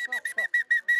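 Seven short, shrill whistle blasts in quick even succession, loud and close, to open a competition at a campsite in Ardèche.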